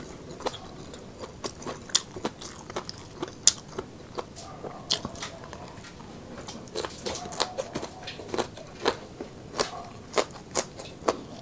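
Crunchy lechon chicken and chili peppers are eaten close to the mic, with repeated sharp bites and crunches in an irregular chewing rhythm over a soft background.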